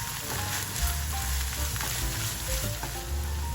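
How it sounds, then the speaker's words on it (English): Seasoned ground meat sauce simmering in a pan as the liquid cooks off, a soft continuous sizzle and bubbling crackle, close and fairly quiet. "Add the seasoned ground meat sauce made earlier. Simmer until the liquid has evaporated."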